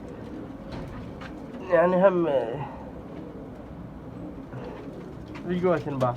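Pigeons cooing nearby, red barefoot birds among them, in short soft bursts around someone talking in Arabic.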